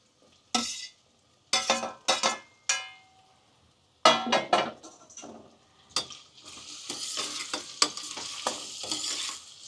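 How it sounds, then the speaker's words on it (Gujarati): Chopped tomatoes going into hot oil and stirred: a string of loud, sharp scrapes and clatters from a spoon in the pan, followed by a steady crackling sizzle that builds and continues under further knocks, no voices. "હવે આને 2 થી 3 મિનિટ બધું આપણે આવી રીતના સડવા દેવાનું છે, હલાવતું રહેવાનું."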